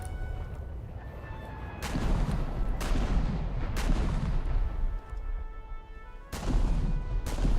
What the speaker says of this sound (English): you can tell by the way my secondaries are firing